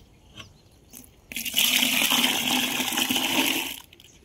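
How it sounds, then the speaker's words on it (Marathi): About two litres of water poured into a bucket for homemade amino acid farm fertiliser make a sudden loud, steady gushing splash that lasts a couple of seconds before stopping abruptly, after a few faint knocks. "पुन्हा एकदा आपल्याला 2 लिटर पाणी टाकायचं त्यात"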